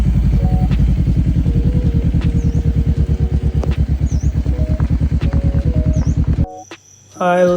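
A motorcycle engine idles and runs steadily up close near a cave area in the mountains of Thailand, a continuous low throbbing that cuts off near the end, leaving brief quiet and a faint high tone.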